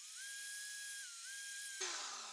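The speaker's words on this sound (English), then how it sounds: "My polishing wheel is expertly mounted to a corded skill brand drill." A ZAM polishing wheel spins on a corded Skil drill while polishing a handmade pure silver bracelet, giving a steady high motor whine that dips briefly, then ends in a louder broadband rush as the wheel bites.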